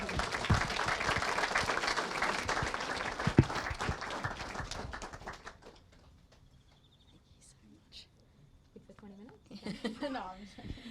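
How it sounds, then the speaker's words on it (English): A wedding ceremony crowd applauds the couple's vows with loud, dense clapping for about five seconds, then the sound fades to a quiet room with scattered small sounds and a few later claps. "can we have another round of applause for both of their vows?"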